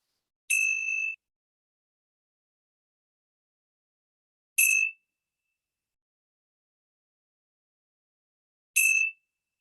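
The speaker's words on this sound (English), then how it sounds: "let's begin our time together with the ringing of the bell" A bright metallic bell rings three times, each strike evenly spaced about four seconds apart, clear and resonant against complete silence.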